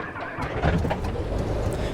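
Cessna 172 engine starting hot in the X-Plane 11 flight simulator, a steady rumbling churn with faint clicks and rising mechanical roar, fairly loud and continuous with no voices.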